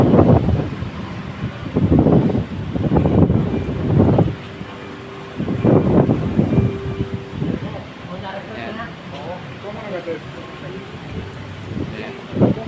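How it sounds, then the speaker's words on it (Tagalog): Strong wind gusts buffet the microphone at a waterside taxi stand, coming in loud rumbling bursts with a few quieter stretches, while people talk nearby. "Ang lakas ng hangin dito"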